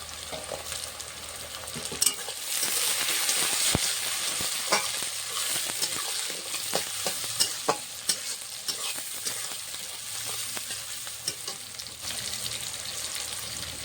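Whole peeled garlic cloves stirred into lightly fried onions in a pan for a spicy mutton curry, a loud, continuous sizzle broken by sharp spatula scrapes and clicks.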